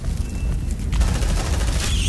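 Sustained suppressive gunfire in the sci-fi video game Aliens: Dark Descent, a dense continuous fusillade of rapid shots with low booming energy, loud and steady throughout.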